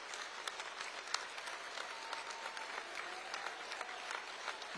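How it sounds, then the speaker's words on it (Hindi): An auditorium crowd at a Jaipur celebration event gives loud, sustained applause, with dense clapping throughout. "इस ओर से उस छोर तक सब जगह ताली जोरदार बजनी चाहिए, जोरदार ताली बजाकर"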